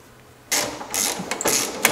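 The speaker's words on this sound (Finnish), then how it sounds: "alhaalla on iskari alapäässä toi yksi pultti. Sen mä otan tosta irti." A power wrench or ratchet on a car's lower shock absorber bolt during a custom suspension kit fit, starting suddenly and whirring in loud bursts with brief dips and clicks, close by, without talk.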